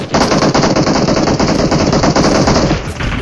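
Heavy automatic gunfire from the PUBG Mobile battle royale game rattles continuously in loud rapid bursts, dense and close, filling the whole stretch without pause.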